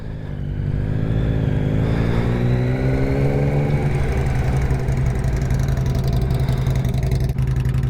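A 2023 Yamaha MT-09 SP engine fires up and settles into a steady, close rumble, then the revs climb as the motorcycle rides off, with the engine staying loud and continuous to the end.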